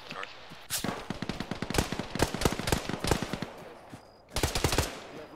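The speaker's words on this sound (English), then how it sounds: "There's somebody shooting behind me." Rapid automatic gunfire in a military shooter video game, ArmA-style squad combat on Suursaari island, loud bursts of crackling shots in fast succession, pausing briefly before another heavy burst at the end.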